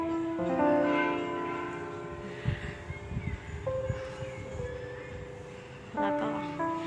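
A temple bell at Wat Phra That Hariphunchai in Lamphun, Thailand rings with sustained, shimmering tones that linger and decay, struck again near the end, with faint voices and movement in the background.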